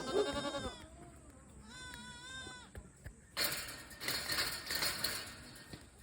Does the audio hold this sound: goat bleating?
yes